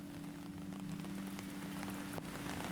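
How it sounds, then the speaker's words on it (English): Heavy tropical downpour on Catanduanes in the Philippines, a dense, steady hiss of rain pounding surfaces nearby, with a low background drone and no voices. "Rolling thunderstorms and sporadic torrential downpour also frequent these parts throughout the day."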